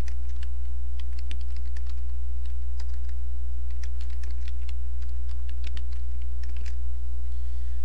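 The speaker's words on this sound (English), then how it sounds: "All you need to do is type in your question." Computer keyboard typing, a quick irregular run of light key clicks close by over a steady low hum, with no talking.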